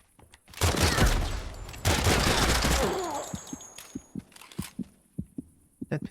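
Pistol gunfire in a first-person shooter video game: a couple of loud bursts of shots early on, followed by a run of sharp, separate, fainter pops spaced irregularly toward the end.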